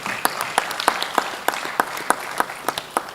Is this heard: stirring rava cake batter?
no